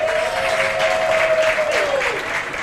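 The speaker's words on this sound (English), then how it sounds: "Can we give Nozi an incredible round of applause?" Audience at a women's economic assembly mining side event breaks into loud, sustained applause, a dense wash of clapping with a faint tone running beneath.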